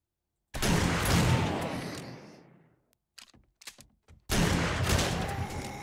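Gunfire against zombies in the 7 Days to Die game, a dense sustained burst of shots, then a gap with a few scattered shots, then another loud burst.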